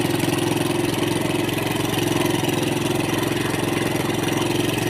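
A Suzuki Thunder 125 motorcycle engine idles steadily at close range, a continuous even mechanical hum with no breaks, while its air screw is being adjusted on a bike that is hard to start.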